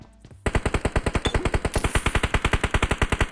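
AKM assault rifle firing in PUBG Mobile: after a brief quiet start, a long, loud, rapid burst of evenly spaced automatic shots, about ten per second, continuing to the end with no talk.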